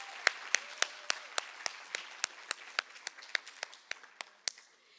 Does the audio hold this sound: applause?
yes